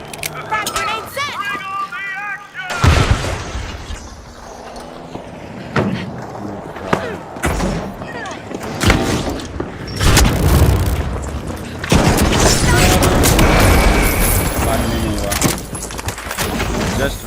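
Crash grenade blasts in a ranked competitive shooter, a series of loud, heavy booms bursting one after another with voices talking over the action.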